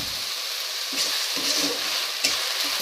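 Rice frying with cloves in a pan for bottle gourd payesh, a continuous close sizzle with occasional stirring scrapes.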